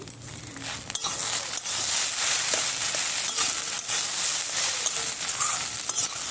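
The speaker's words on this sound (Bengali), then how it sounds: "খানিকটা সাবুদানাটা আমি ঘিয়ের মধ্যে ভেজে নেব" Soaked sago pearls fry in ghee in a pan, a loud continuous sizzle with occasional stirring scrapes and crackles close up, with no talk.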